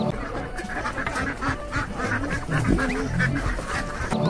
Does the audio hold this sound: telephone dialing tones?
no